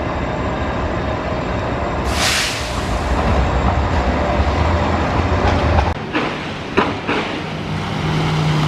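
A train rumbles past close by in a loud, steady roar, with a hissing swell partway through and a few sharp clanks near the end.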